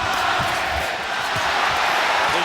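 Dense, roaring boxing arena crowd chanting for Mexico during a Timothy Bradley versus Manuel Márquez fight, a steady loud wash of voices with faint rhythmic pulses underneath, continuous throughout.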